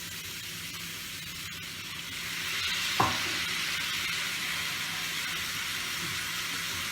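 Turmeric and spices sautéing in a pan with a splash of water for Bengali pabda fish curry, a steady hiss and sizzle with a sharper burst of steam near the middle.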